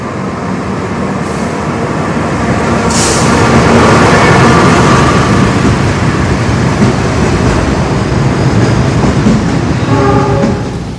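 A long container freight train rolls past up close at an Indonesian railway station, a loud continuous rumble with rhythmic wheel clatter that swells and holds steady throughout.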